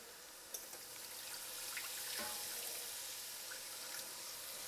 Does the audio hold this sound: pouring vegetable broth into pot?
yes